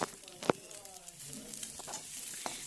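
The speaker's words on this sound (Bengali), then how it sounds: "তোমরা ডিমটাকে আলুর সঙ্গে ভালোভাবে মিশিয়ে নাড়াচাড়া" Egg being stirred into leftover fried potatoes in a pan, a low steady sizzle broken by a few close spatula knocks and scrapes, no voices.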